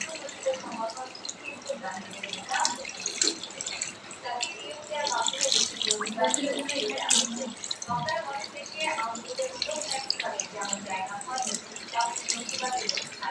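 Tap water runs steadily into a sink while someone rinses their mouth, a continuous splashing stream with dripping and a few swishes, close up, with faint voices underneath.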